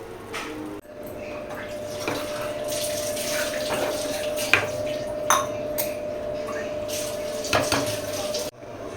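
Water runs steadily into a cooking pot of spinach, with scattered clinks of dishes and utensils and brief knocks breaking through the continuous flow.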